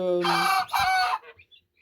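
A rooster crows loudly and close by, one long drawn-out call that breaks partway through, then tails off into a few faint clucks.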